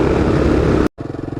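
Kawasaki KLR 650 motorcycles run with a steady, loud engine drone that cuts out briefly, then returns as a rhythmic pulsing thrum, close by on a rural road.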